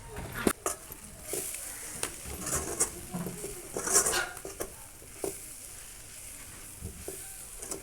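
Drumstick leaves frying in a pan with chilli powder, coriander powder and garam masala, a steady close sizzle broken by irregular stirring clatters and scrapes of a spoon on the pan.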